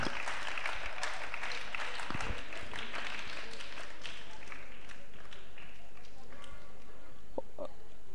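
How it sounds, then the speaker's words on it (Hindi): A crowd gives loud applause to welcome a guest at a Jain religious gathering, with uneven clapping that thins out and scatters toward the end, alongside some background noise. "जोरदार तालियों के माध्यम से कॉमरेड जी का स्वागत करें।"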